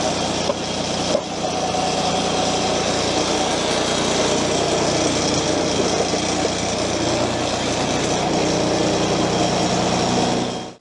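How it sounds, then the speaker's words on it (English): Electric deck lift on a versatile mowing machine raising the lifting arms, heard as a steady, loud mechanical engine and motor drone running continuously for about ten seconds before cutting off abruptly at the end. "Then using your electric deck lift, just lift up your arms, unclip your auxiliary electrics."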